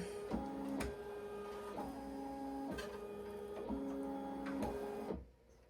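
A Ricoma EM-1010 embroidery machine traces a patch design, its motor humming steadily with regular rhythmic clicks and whirs up close, then it falls quiet at the end.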